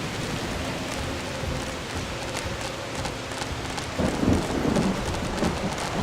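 A thunderstorm in the video game Dungeons 4 roars as dense, steady rain with a low rumbling swell of thunder building about two-thirds of the way through.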